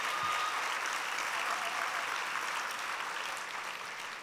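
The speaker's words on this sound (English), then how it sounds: "I want to give you a round of applause." An audience applauds warmly for a man at a political event, steady dense clapping from a crowd that stays loud and fades gradually toward the end.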